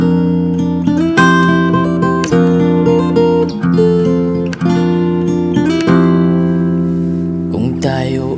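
Acoustic guitar cover song with a singing voice, recorded through a Boya mic, with steady strummed chords under a close, loud vocal melody.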